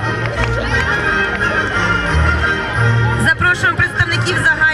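Applause and crowd noise from the audience at a New Year tree opening ceremony, a continuous wash of clapping and babble under a loud public-address hum, swelling slightly near the end.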